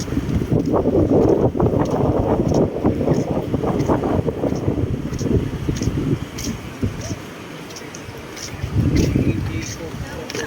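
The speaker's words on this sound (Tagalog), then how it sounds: "Ang hangin." Strong wind buffets the microphone on a beach boardwalk at Sabang Beach, a steady broadband roar with gusts throughout, easing briefly near the end before picking up again, with voices talking underneath.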